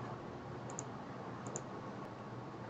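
Two pairs of faint, quick computer mouse clicks in Cyclepad software, close and soft over a steady hiss.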